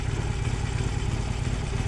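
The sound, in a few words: Harley-Davidson Forty-Eight motorcycle engine starting up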